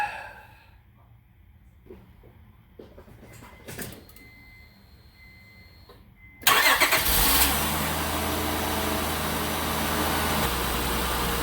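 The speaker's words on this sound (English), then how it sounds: "engine start right away" A Honda car engine cranks and catches after a new battery installation, a sudden loud start followed by a steady, close idle rumble, preceded by quiet clicks and handling noises.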